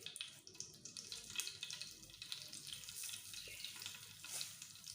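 Cumin seeds fry in hot oil in a pan for a potato curry, making a steady, close sizzle and crackle that holds throughout without any talk.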